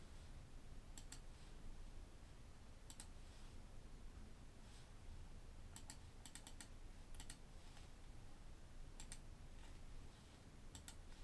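Keys clatter on a computer keyboard while a graph is entered in Desmos, faint short bursts of clicks separated by pauses over a quiet background hiss.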